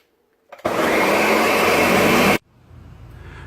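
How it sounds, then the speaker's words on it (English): A blender whirs steadily for close to two seconds, blending yogurt into a strawberry soup in a home kitchen, a loud and sustained motor roar that starts and stops abruptly, followed by quiet room noise. "Blend it."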